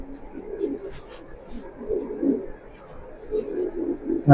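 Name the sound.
racing pigeons cooing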